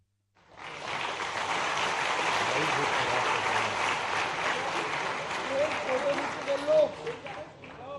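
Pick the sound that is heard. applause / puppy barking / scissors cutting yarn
applause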